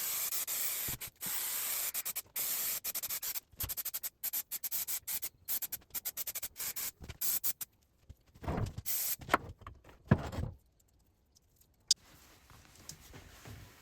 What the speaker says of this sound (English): let's get spraying some glue around